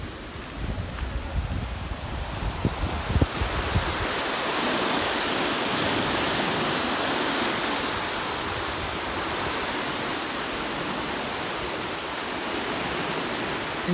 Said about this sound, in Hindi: कितनी तेज़ी से पानी जा रहा है, आ रहा है